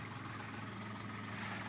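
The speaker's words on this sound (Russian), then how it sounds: "Из-за лодки не слышно." Steady, close low-pitched drone of a boat engine running at sea in Thailand, continuous and unbroken with no voices.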